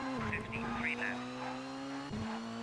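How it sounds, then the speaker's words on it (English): A rally car in Colin McRae Rally 2.0 drones steadily while its tires skid through a bush, a rough scraping hiss over the engine tone, with a person talking over it. "skidding along as you wreck the tires as we drive through a bush."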